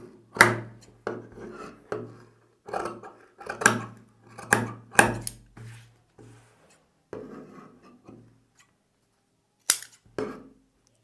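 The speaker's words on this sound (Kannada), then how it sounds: "ಈ ರೀತಿ ಸ್ಲೀವ್ ಶೇಪ್ನ ಮಾರ್ಕ್ ಮಾಡಿಕೊಂಡು ಕಟ್ ಮಾಡಬೇಕು" Scissors cut blouse fabric along a marked sleeve shape on a table, a series of crisp rasping snips in short bursts with pauses between, close and clear.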